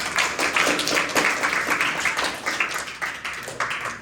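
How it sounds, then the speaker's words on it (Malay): Children in a classroom clap their hands together in a rapid, dense burst of overlapping claps that continues steadily throughout, filling the room at close range. "Tepuk tangan"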